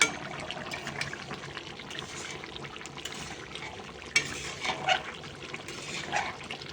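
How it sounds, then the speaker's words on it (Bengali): An egg curry simmers in a pot on a home kitchen stove beside a chicken dish, its bubbling a steady, close, hissy churn with a few louder pops, no voices. "ডিমের ঝোল ফুটছে, দেখতে পাচ্ছ?"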